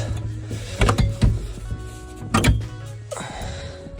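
A cover is shut on a used Scandinavian combine harvester, giving a couple of close, sharp metallic clunks and rattles over a low steady hum, then a final thud.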